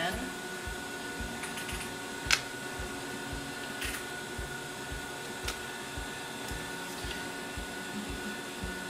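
Sewing machine stitching bias tape along a Hong Kong seam, a steady rapid mechanical whir with regular clicking needle strokes, close and continuous, with a couple of sharp knocks.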